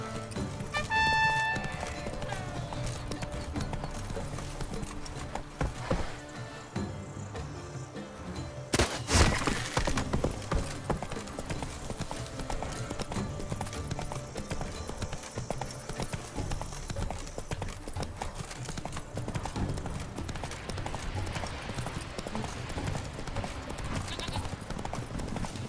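Roach, the horse in The Witcher 3, gallops with a steady, close clip-clop of hooves, joined by brief thuds and a sharp crash partway through, while voices speak over the running rhythm.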